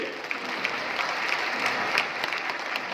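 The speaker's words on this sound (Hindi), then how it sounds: "एक बार आप सभी जोरदार तालियां बजाकर बताइए" Audience applause at a cyber crime awareness stage show, a steady, dense wash of many hands clapping at moderate distance, holding evenly for the whole stretch with a few sharper claps standing out.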